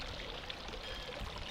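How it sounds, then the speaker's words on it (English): Hot water is poured into a glass for a hot buttered rum drink, a continuous, fairly soft liquid stream with a steady hiss and gurgle. "And now I'm going to fill the rest of my glass up with my hot water."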